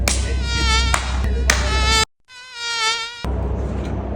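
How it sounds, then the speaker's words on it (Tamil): A mosquito buzzes loudly and close by, a continuous high whine that wavers in pitch, briefly cuts out near the middle, then returns and carries on alone. "இந்த கொசு தொல்லை தாங்க முடியலடா. எங்க போனாலும் பின்தொடர்ந்தே வருது."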